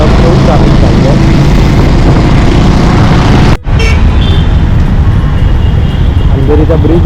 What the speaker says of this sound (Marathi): खूप ट्रॅफिक चालू आहे.